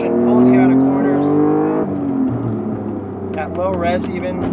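A Honda NSX engine pulls strongly with rising revs under heavy nearby talk, then eases off before a further burst of revving.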